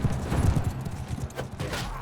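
Horse hooves clip-clop in Mount and Blade 2 Bannerlord medieval combat, with fast hoofbeats under a busy wash of battle noise and a brief whinny.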